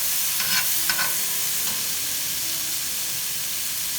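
Tomatoes dropped into a hot pan for shrimp veggie pasta, with a few quick stirring clatters over a steady, close sizzle and hiss.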